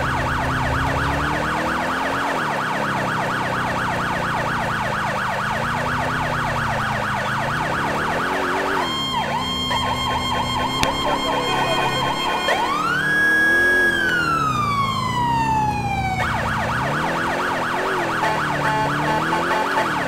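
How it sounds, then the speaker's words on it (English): A police car siren in the video game GTA 4 wails over a running engine, cycling through a steady wail and then a faster rising yelp and sweeping tones for twenty seconds. "Got a different siren, I like it."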